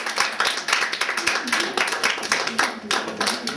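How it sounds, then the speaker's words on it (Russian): Wedding guests applaud at a 2008 celebration, dense steady clapping from a crowd filling the room loudly and close, with no speech over it. "Ваши аплодисменты."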